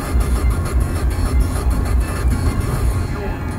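A steady low rumble of a distant eight-valve car engine drones without a break, thick and continuous, with faint rattling texture on top.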